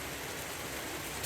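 Steady rain patters during a lightning storm around an old boat, a close, even wash of drops with no talk and no distinct thunder.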